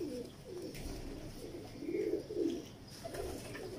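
Pigeons of a mistriyun walay missay fancy breed cooing in soft, repeated low throaty phrases, with several coos swelling and fading over steady background noise, no talk.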